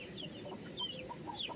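Soft chicken clucks come from a farmyard flock being herded, a few faint short calls over a low steady outdoor background.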